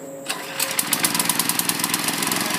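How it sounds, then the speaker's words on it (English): A garden tiller's small engine is pull-started: a short rasp of the recoil cord, then the engine catches and runs with a fast, even, close-up putter that holds steady to the end. "to get it started, you're going to turn the choke off. And throttle about halfway and pull it."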